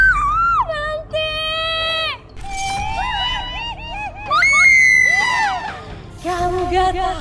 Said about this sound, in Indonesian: kok ada suara teriakan ya?